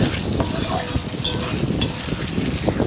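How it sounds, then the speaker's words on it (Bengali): Papaya and rohu fish curry with onion and tomato being stirred in a pan, a steady close scraping and stirring with faint sizzle throughout. "সেই হিসাবে আমি এরকমভাবে নাড়াচাড়া করে নেবো।"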